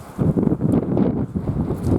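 Gusty wind buffets the microphone in low rumbling bursts, steady and close throughout, on a dark, rainy evening outdoors.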